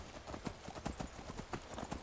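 Horse hooves clip-clopping in a steady galloping rhythm in the video game Skyrim, close and fairly loud over a noisy game soundtrack.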